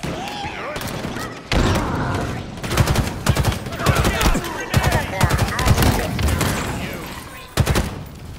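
Gunfire rattles in Halo Infinite gameplay, loud rapid bursts of automatic weapons with scattered heavier shots and thuds, firing repeatedly across the whole stretch.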